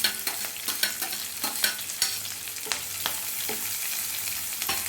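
Chopped onion frying for a spicy roasted-gram chutney crackles steadily in a pan, with repeated close scraping and tapping from a spoon as it is stirred.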